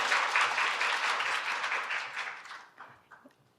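Applause from a forum audience welcoming a speaker: dense clapping at moderate distance that holds for a few seconds, then thins out into scattered claps and fades.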